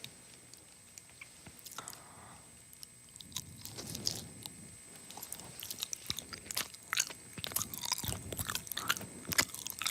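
Close, crisp crunching as a bean snack is bitten and chewed, the crunches growing denser and louder over several seconds.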